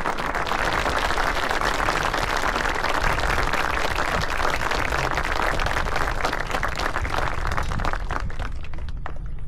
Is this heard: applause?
yes